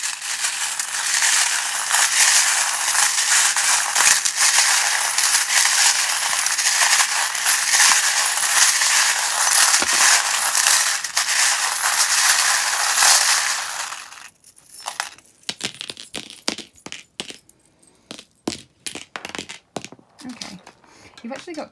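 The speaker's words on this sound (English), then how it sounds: "the sound of the charms being shuffled" Metal charms for a tarot-style charm reading are shuffled with a loud, continuous jingling rattle for about fourteen seconds, then give way to scattered light clinks and taps.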